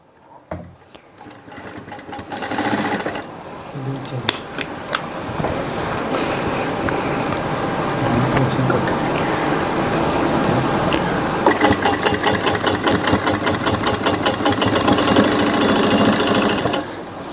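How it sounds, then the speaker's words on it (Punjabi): A sewing machine stitches gum piping onto a Punjabi suit, running in a loud, steady mechanical whir that starts after a brief pause and continues for most of the stretch with a fast, even rhythmic chatter toward the end. "ਪਹਿਲਾਂ ਇਹਦੇ ਉੱਪਰ ਸਿੰਗਲ ਸਲਾਈ ਲਾਓ ਜਿਸ ਤਰ੍ਹਾਂ ਕਿ ਅਸੀਂ ਲਗਾ ਰਹੇ ਹਾਂ"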